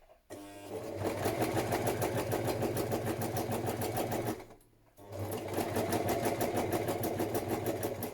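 A sewing machine runs a zigzag stitch around the edge of fabric for a padded patchwork journal cover, chattering steadily and rhythmically up close in two runs separated by a brief pause.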